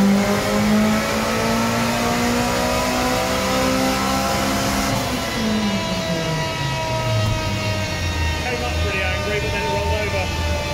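A car engine, tuned toward a 360 target on a Badger 5 dyno day with a G25-550 turbo, roars on a race-map dyno run, holding a steady high rev then pitch sweeping down midway, loud and close throughout.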